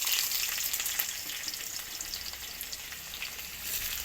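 Onion frying in oil with black cumin and dried chilli, a soft, continuous sizzle with faint crackles and occasional stirring, heard alone without voices.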